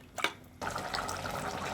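Water is poured into a pot of dry fish curry with half-cooked vegetables, a steady splashing, gurgling pour starting after a short soft clink and continuing close and fairly loud.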